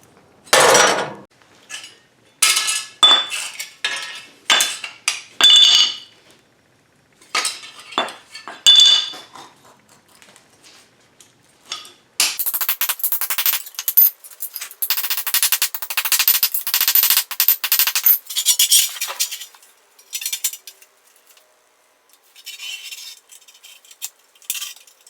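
Hammering on a sheet metal patch piece being flattened for rust repair of a bottom radiator support, sharp metallic blows in irregular bursts followed by a longer stretch of rapid continuous pounding.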